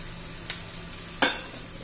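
Raw banana pieces sautéing with coriander, cumin and onion-garlic masala and turmeric in a pan, a soft steady sizzle broken by a couple of sharp spatula scrapes and clinks, with no voices.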